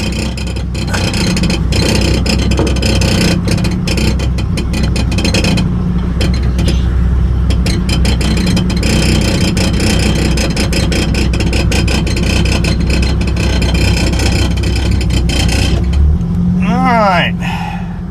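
A Pontiac Firebird engine idles steadily at close range while the car backs in, a continuous low rumble that lasts throughout with faint ticks and clatter on top.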